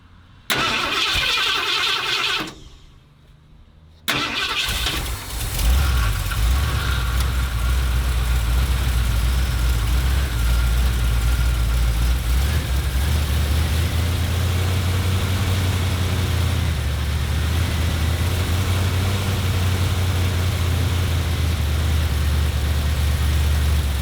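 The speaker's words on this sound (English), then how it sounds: "Let's go ahead and fire it up for the first time and hopefully make some pretty noise" A 1977 Ford F-250 Ranger XLT Super Cab with a 460 cubic-inch V8, restarted after an engine fire and 19 years of sitting, cranks briefly, then catches and settles into a loud, steady rumbling idle close by.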